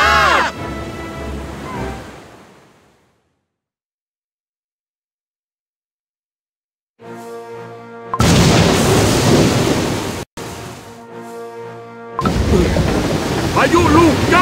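A thunderstorm at sea in the video game Cookie Run: Kingdom, where a booming thunder crash fades into silence before loud rumbling storm noise and music swell back in, with voices speaking over it.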